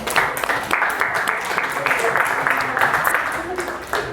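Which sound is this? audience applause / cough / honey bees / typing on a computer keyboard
audience applause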